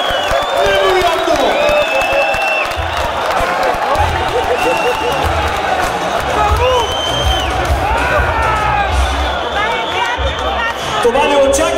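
An arena crowd cheers and whoops loudly and continuously, with applause mixed in, while an announcer shouts over the noise and a low pulsing beat runs underneath.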